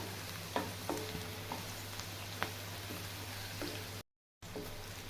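Capsicum sautés in sesame oil in a pan, giving a soft, steady sizzle over a low hum. Occasional stirring clicks break through, and the sound cuts out briefly near the end.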